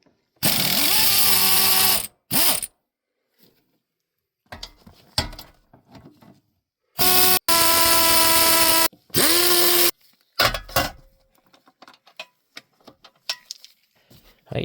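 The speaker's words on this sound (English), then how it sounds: "you're going to need to open these 4 screws to take the seat out completely" A power tool unbolts the seat of a 2011 Audi Q5, producing several loud, whining bursts of a few seconds each. Between the bursts come metallic clicks and rattles of bolts and tools, with no speech.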